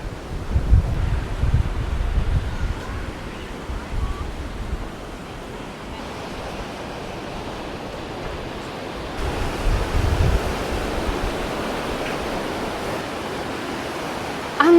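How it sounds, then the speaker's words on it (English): Strong wind buffets the microphone on a choppy seafront at Can Picafort, Mallorca, with a loud continuous roar of gusts and surf that surges and eases in waves; no voices. "it is very, very choppy over here, and it is very, very windy"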